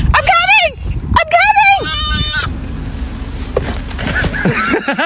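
A farm goat lets out two loud, quavering bleats up close, and then a noisy stretch follows with faint shuffling and further voices.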